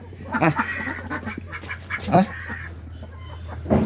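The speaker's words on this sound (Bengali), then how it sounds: "এগুলো হাঁস হাঁস তিনটে আছে" Three ducks call in short, scattered bursts at close range, with a steady low hum running underneath throughout.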